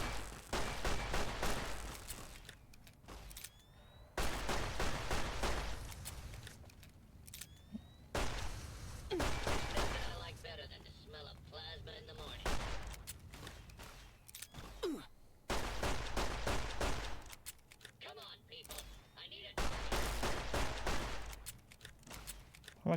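Gunfire in the video game Fallout New Vegas, bursts of rapid loud shots in several clusters separated by quieter gaps, with sharp cracks and low booms.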